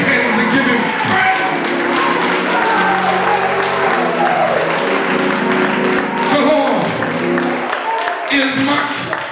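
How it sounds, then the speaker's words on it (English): A church congregation claps and shouts praise during a sermon on the Lord is my Shepherd, dense loud clapping mixed with voices and musical tones running continuously. "Clap your hands and give him praise."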